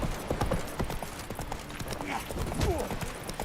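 Roach the horse's hooves clip-clop at a brisk run in The Witcher 3: Wild Hunt, a steady, fairly close rhythm of hoofbeats with game voices speaking over it.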